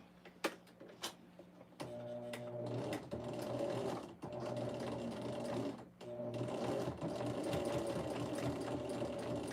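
Sewing machine stitching fabric onto fusible fleece for a quilted bag, sewn without a walking foot: a steady mechanical whirring hum in close bursts, pausing briefly around two seconds and again near four and six seconds.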